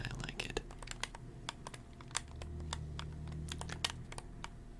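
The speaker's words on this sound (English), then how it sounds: "There are also mechanical keyboards, and they also tend to sound like really clicky." Mechanical keyboard keys clack in quick, irregular bursts, crisp and close, over soft background hum and faint talk.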